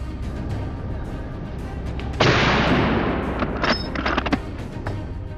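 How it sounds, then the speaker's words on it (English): Gunshots during a wild boar hunt in a forest: one loud blast rolls into a long echoing rumble, followed by a second, softer burst of shots. "From time to time, gunshots cracked through the forest"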